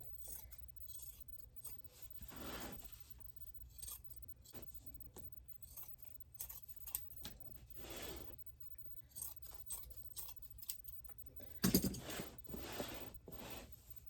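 Scissors snip through chair cushion upholstery fabric while trimming the corners, a series of quiet close crisp cuts and rustles with a few louder snips near the end and no talking.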